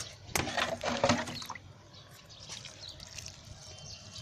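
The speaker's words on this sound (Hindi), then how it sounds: "तो बस ऐसे पानी दे देना है।" Water is poured onto luffa seeds in a pot, a close splashing trickle lasting about a second with a couple of bursts, then it fades into a soft, quiet background with faint dribbling.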